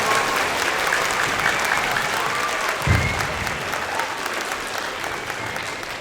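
School district event crowd applauding loudly and continuously for several seconds, a dense, even wash of clapping with no one speaking over it.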